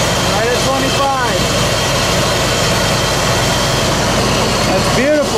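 Ford F150 truck engine idling steadily with a low continuous rumble, close and even throughout, a few brief squeaky chirps near the start and end.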